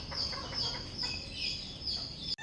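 Newly hatched chicks three days old peep and chirp softly in quick, overlapping high calls, faint and close, with a brief knock near the end.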